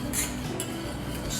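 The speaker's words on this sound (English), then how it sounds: "I'm just going to stir that until it melts." A spoon stirring melting sugar and gelatine glaze in a pot, soft close scraping and faint clinks against the metal over a low steady hiss, very brief.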